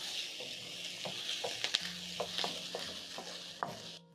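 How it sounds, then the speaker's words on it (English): Corn, French beans and assorted peppers get tossed with onions and garlic in a stir-fry pan, making a soft sizzle broken by several distinct scraping and stirring knocks, fairly quiet, no speech. "Toss the veggies in the flavorful onions and garlic."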